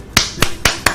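Four sharp, crisp hand claps land close and evenly spaced, each a short isolated snap with quiet gaps between and no voices.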